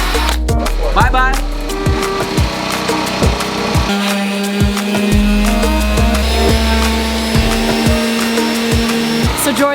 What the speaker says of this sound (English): He's just sanding a little bit of the door itself so that it fits just enough in the frame